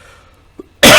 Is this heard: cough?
yes